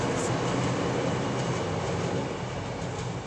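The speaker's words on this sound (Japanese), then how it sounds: "今電車が通ってましたから" A train rumbles past close by, a steady broadband roar that stays loud and even throughout with no voices over it.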